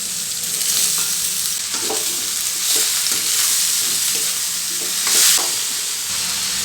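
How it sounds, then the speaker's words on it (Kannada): Ridge gourd frying in a pan with dried red chillies, a steady loud sizzle broken by repeated scraping strokes of a spatula as the pieces are stirred. "ಈಗ ಹೀರೆಕಾಯಿ ಹಾಕ್ತಾಯಿದ್ದೀನಿ"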